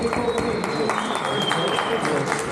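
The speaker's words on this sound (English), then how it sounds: "Everybody, round of applause." Applause for a graduate called to the stage at a ceremony marking the completion of a Talmud tractate, steady clapping from a gathered crowd with a thin tonal whine running through it and some murmured voices underneath.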